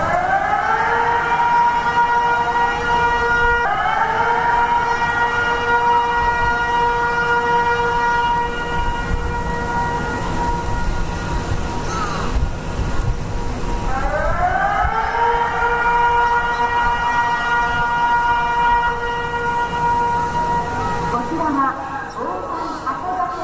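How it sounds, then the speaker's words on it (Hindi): A loud tsunami warning siren sounding in Japan, its wailing tone rising and holding in long sweeps with harmonics, repeating about every ten seconds over steady background noise. "ये हम आपको सायरन की आवाज सुना रहे थे और ये आवाज आ रही थी जापान से"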